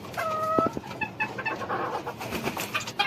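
Several Bermudian chickens cluck and call close by, with a rooster-like crow near the start, busy overlapping fowl sounds throughout.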